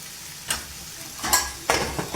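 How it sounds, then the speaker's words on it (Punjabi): Spices such as red chilli, turmeric, black pepper and garam masala frying in a pan for raw banana curry, a continuous sizzle with three distinct stirring scrapes against the pan. "ਇਹਨੂੰ ਚੰਗੀ ਤਰ੍ਹਾਂ ਆਪਾਂ ਮਿਕਸ ਕਰ ਦਿਆਂਗੇ"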